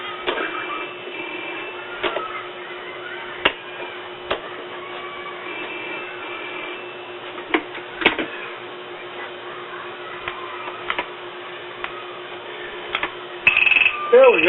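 A field telephone set in common battery mode ringing: a steady, buzzy, band-limited ring tone running continuously through the whole stretch with faint clicks, at moderate loudness and heard without talk over it.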